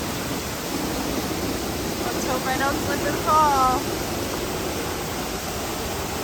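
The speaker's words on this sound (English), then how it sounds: "I'm gonna give you POV of going behind this waterfall." Steady, broadband roar of water while walking behind a waterfall, loud and constant throughout, with a person speaking briefly over it.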